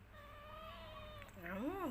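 A cat meows in a drawn-out, wavering call that rises and falls near the end, close by, over a steady background hum in a quiet indoor room.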